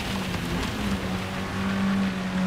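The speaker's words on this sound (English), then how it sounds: "But the rain has arrived." Rain falls during a Gran Turismo 7 race on PS5 between a Suzuki Swift road car and Gr4 race cars, a steady wash of hiss spread under a low, droning engine hum.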